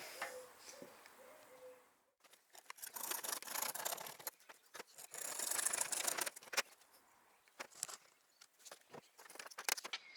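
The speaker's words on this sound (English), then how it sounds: "So it's making a nice clean cut." A blade cuts through a base plate for a motorcycle tank bag conversion, irregular rasping strokes close by with short pauses between bursts, quiet and without talk.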